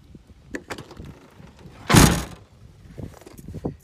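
A door on a second-generation Toyota 4Runner swings shut with a single solid thump midway through, set among quieter clicks and handling noises.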